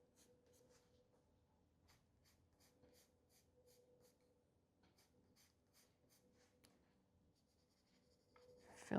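Oil-based colored pencil on a coloring book page, a quiet series of soft scratchy strokes in uneven bursts, with a louder rustle at the end.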